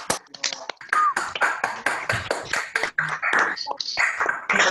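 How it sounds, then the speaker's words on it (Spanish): A crowd applauds at a live talk event in Viedma, Río Negro, with dense, steady clapping running the whole length, close and fairly loud, with no voices on top. "un aplauso"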